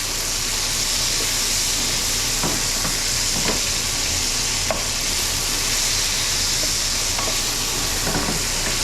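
Vegetables sweat in a pot with a steady bright sizzle, and several soft scraping stirs come through on top, close and continuous.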